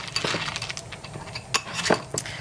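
Light clinks and scrapes of a spoon against a bowl while marshmallow fluff is mixed, soft, irregular taps with a few brighter metallic knocks near the end.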